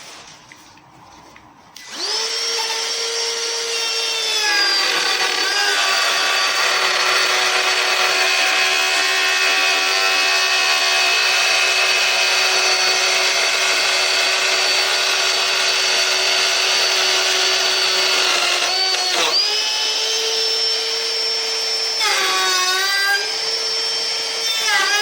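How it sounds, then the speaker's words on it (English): A power router cuts a 12mm-wide groove into a wooden stair riser, whining steadily and loudly after a sharp start-up, with brief dips in pitch as the bit bites, continuing nearly unbroken to the end. "Just router it out."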